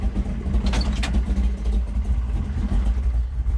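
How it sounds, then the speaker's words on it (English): A big block Chevy engine with a Holley mid-mount accessory drive idles roughly and low, a steady close rumble with uneven pulses as it barely keeps running. "Barely wanting to idle. Like barely idling."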